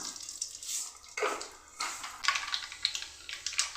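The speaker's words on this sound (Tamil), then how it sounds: "கடுகு பொடிஞ்சிருச்சு பாருங்கள்" Mustard seeds spluttering in hot coconut oil with curry leaves while tempering for Kerala drumstick aviyal: irregular crackling pops, sparse at first and then a busy burst of sharp spits, close and moderately loud with no talking.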